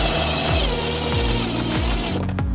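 A power tool whirs steadily at close range, its motor note dropping in short repeated bursts as it bites down on a bolt, about four times before stopping.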